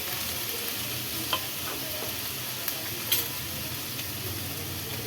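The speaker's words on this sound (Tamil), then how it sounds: "இப்போ இது எல்லாத்தையும் நல்லா வதக்கிக்கலாம்." Tomatoes, ginger, garlic, cashews and whole spices sautéing in a pan for paneer butter masala, a constant loud sizzle with occasional stirring scrapes and small pops, no talking.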